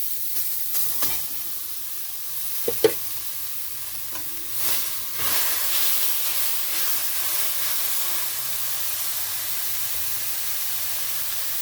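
Grated coconut being stirred into roasted semolina in a pan, a soft steady scraping and rustle with faint sizzle, a few sharper clicks early on, no talking.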